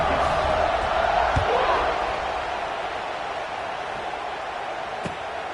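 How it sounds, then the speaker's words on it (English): A stadium crowd at a college football game roars steadily as a kickoff follows a touchdown. The broad, continuous wash of cheering fills the space at a distance, with a commentator talking over it. "this crowd now ready to get behind them"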